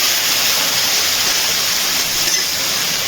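Water poured into ginger paste and spices frying in hot oil, giving a loud, steady hiss that keeps up without a break for a few seconds.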